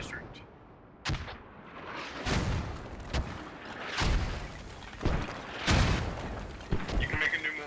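Mortar fire in the Squad video game: a series of heavy booming impacts roughly every second, each with a rumbling tail, over a steady noisy background of battle.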